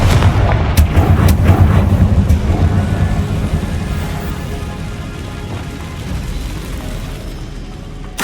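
A Confringo explosive spell in the Hogwarts Legacy video game: a loud, deep booming blast that rumbles at first and slowly fades out over several seconds, with no talking.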